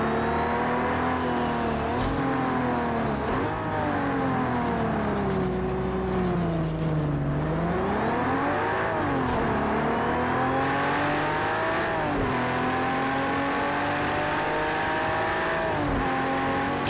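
A Ferrari 330 P4 race car in Project CARS 2 at Laguna Seca revs loudly and continuously, its engine pitch rising and falling through gear changes with a dip and climb midway, no voices over it.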